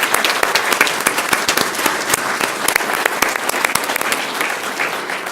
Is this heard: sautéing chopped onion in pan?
no